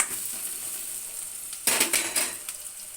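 Sliced onions frying in hot oil in a kadai on a stove give a constant soft hiss, then a sudden louder burst of sizzling and scraping stirs near the end.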